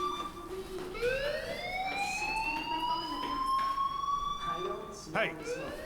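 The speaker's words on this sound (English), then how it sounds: "do you hear that fire alarm? That means you should be outside." A school fire alarm in the game Life Is Strange wails as a steady rising electronic siren tone, loud and continuous throughout, with a brief burst of other sound near the end.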